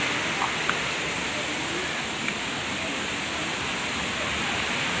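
Rushing waterfall at Bantimurung, a dense, constant roar of falling water that is loud and unbroken, with no clear voices over it.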